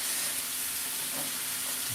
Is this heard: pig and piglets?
no